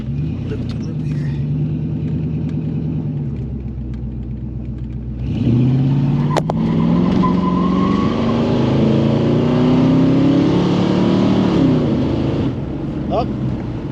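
A Lincoln Mark VII LSC with a locked-up rear brake drives a small loop, its engine rumbling steadily and then rising in pitch as it accelerates, close and continuous under occasional talk.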